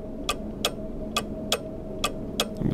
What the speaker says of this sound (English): Okay, your clocks are really loud,